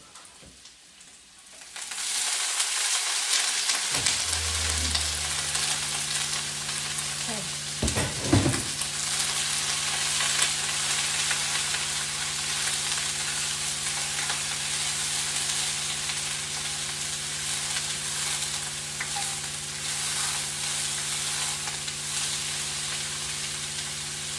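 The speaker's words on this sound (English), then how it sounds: "I'm going to drop in the cabbage." Chopped green cabbage dropped into a hot pan, an abrupt burst of loud frying that settles into a steady close sizzle and hiss, with a few stirring clatters and a low hum beneath.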